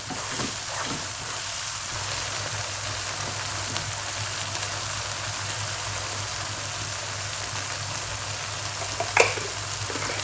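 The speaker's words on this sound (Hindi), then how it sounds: "अब यहाँ पे मैं आलू डाल दूंगी। आलूओं की भी साथ भुनाई हो जाएगी।" Potatoes fry in a pan for dhaba-style dum aloo masala, giving a steady, close, even sizzle with a constant hum underneath and a brief clink near the end.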